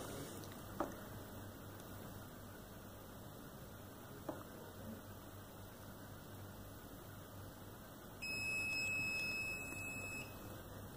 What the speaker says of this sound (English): Now we can hear a long beep, that means multisense is paired.